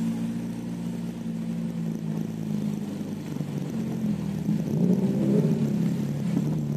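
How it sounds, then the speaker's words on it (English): Subaru BRZ driving off, a steady low engine rumble that swells slightly as the car pulls away, fairly close and continuous. "Subaru BRZ, baby."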